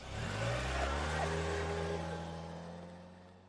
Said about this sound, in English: That car made the drive off sound,